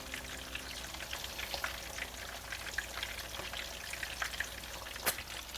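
Meatballs searing in a hot pan, a soft continuous sizzle with scattered light pops and spatters, fairly quiet and steady throughout.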